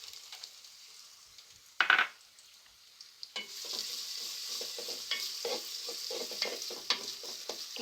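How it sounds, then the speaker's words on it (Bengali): Chopped onions sizzle in hot oil with cardamom for beef bhuna khichuri, starting with a quiet hiss and a sharp clatter, then building into a steady, brighter frying crackle broken by stirring scrapes, close and alone. "পেঁয়াজগুলো আমি হালকা নরম করে ভেজে নিয়েছি।"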